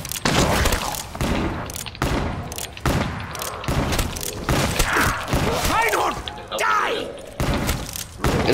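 Several pistol shots ring out from Call of Duty Zombies on the Kino der Toten map, sharp thumps in a quick cluster under near-constant talking.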